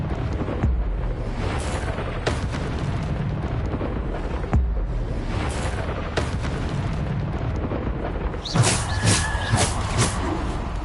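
Bombarda spell explosions in the video game Hogwarts Legacy: repeated heavy booms and bursts over a constant roaring combat din, with a bright crackling blast near the end.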